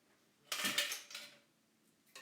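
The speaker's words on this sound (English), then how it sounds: "All right, and I'll add a couple of those ice cubes" Ice cubes drop into a cocktail glass in one quick clattering burst, a few close clinks and rattles fading over about a second, with another faint clink at the end.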